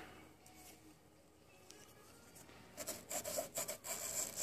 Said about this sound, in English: Just scratching that edge really, really well, all the way around.